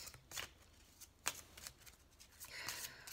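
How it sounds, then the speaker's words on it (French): Cards from a tarot deck being handled and drawn, giving soft papery slides and flicks in a few quick bursts, close and quiet with no talk over them. "je vais tirer la carte de la ressource,"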